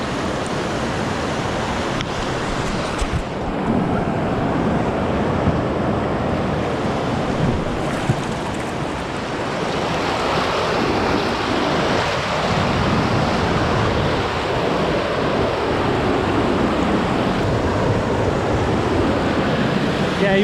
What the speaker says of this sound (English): There's a proper weir here.